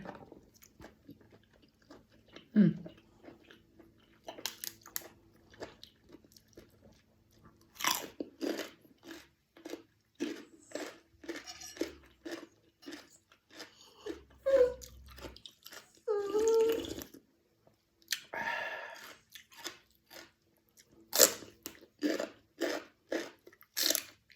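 Crispy fried squid being bitten and chewed close up, with repeated loud crunches in irregular bursts and wet chewing between them, and someone talking briefly in places.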